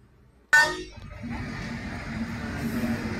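Train rolling past a closed railway level crossing gate in rural Purulia, opening with a sharp clanging onset and then a steady broadband rumble of wheels continuing throughout.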